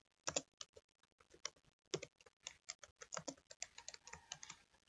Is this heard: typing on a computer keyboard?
yes